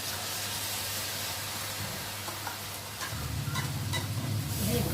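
Taro stolons fry in oil with poppy seed and mustard while being stirred, a close continuous sizzle with scraping stir noises, and a low rumbling hiss that thickens toward the end.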